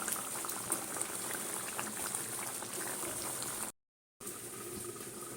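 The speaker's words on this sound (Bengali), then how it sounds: "ধিমে আছে ফুটতে দিতে হবে, মাঝে মাঝে এইভাবে নাড়া দিতে হবে" Chicken gravy with cashews simmering on low heat, a continuous close bubbling and gurgling at steady volume, briefly cut to silence before resuming.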